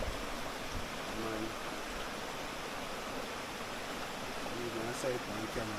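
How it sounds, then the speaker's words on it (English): River water flows steadily near a backyard farm in Kingston, a constant rushing wash that stays even throughout, with people talking faintly over it. "we're up on the river here"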